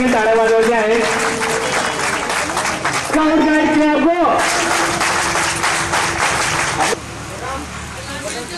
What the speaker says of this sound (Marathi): प्रत्येकाने मोठ्याने या ठिकाणी टाळ्या वाजवायच्या आहेत